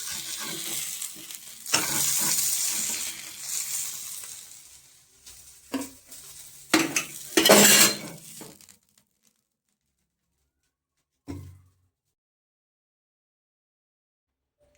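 Mangalore-style tikka on a tawa: loud sizzling and scraping from about 0 to 9 s as pieces are lifted off, then near silence broken by a brief clatter.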